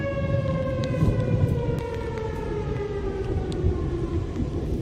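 An outdoor civil defense warning siren wails continuously, its pitch slowly falling, fairly distant and faint against background noise, with no voices.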